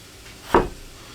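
A single knife chop strikes a cutting board once, sharp and close, while a medium-sized tomato is diced.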